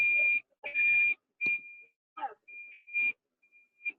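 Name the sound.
annoying beeping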